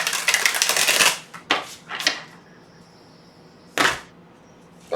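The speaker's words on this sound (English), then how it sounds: "One more shuffle." Tarot cards are shuffled and cut, starting with a dense riffling burst, then sharp slaps and a later snap of the deck, with quiet pauses between and no talking.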